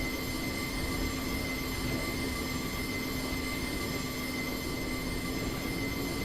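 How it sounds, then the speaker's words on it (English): Train wheels squealing on rails at a heritage railway line between Whitby and Pickering, a steady, piercing metallic whine with sustained high tones over a low rolling rumble, held without a break. "Wheel squeal."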